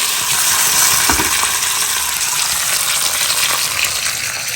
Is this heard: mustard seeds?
yes